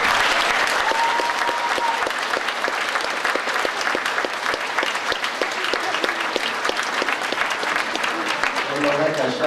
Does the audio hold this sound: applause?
yes